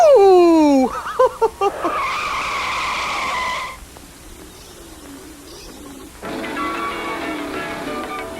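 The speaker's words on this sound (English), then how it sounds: "Luigi, start the race, please." Cartoon race cars set off at the start of a race: descending squeals and bursts give way to a sustained engine roar, then rushing noise and a rougher motor drone, with voices briefly present.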